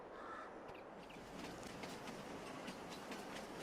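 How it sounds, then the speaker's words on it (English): A rented train rolling back along the tracks in Farming Simulator 22, a steady rumbling drone with faint rhythmic clicks over the rails throughout. "And here is the train back."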